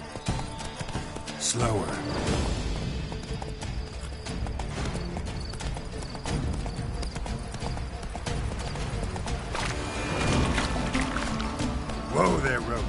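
Hoofbeats of Roach, a horse in The Witcher 3: Wild Hunt, clip-clop steadily in a loud, continuous gallop with occasional whinnies, as a voice talks over the rhythm.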